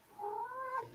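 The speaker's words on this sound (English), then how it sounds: "Oh, there's the kitty." A single drawn-out cat meow, rising and falling over about a second, fairly faint and close.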